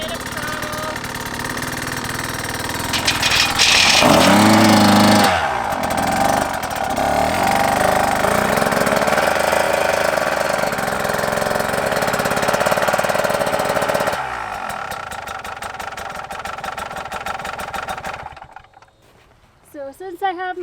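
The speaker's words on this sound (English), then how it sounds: "So we're gonna drive it up, give it a bit of throttle." A dirt bike engine revs and throttles loudly as the bike is ridden up a ramp onto a motorcycle carrier, then settles to a rougher idle before cutting out.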